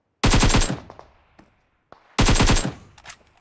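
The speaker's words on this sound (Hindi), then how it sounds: "किल गनशॉट की आवाज कितनी इरिटेटिंग है" Bursts of automatic gunfire from a mobile shooting video game: two loud, rapid volleys separated by about a second and a half of near silence, with a few faint single shots in between.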